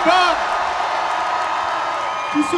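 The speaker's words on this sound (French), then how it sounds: "Un grand tonnerre d'applaudissements pour Rima Hassan." A rally crowd at a French left-wing political gathering cheers and applauds for Rima Hassan, a dense, steady roar of clapping and whoops that stays loud and close throughout with no one speaking over it.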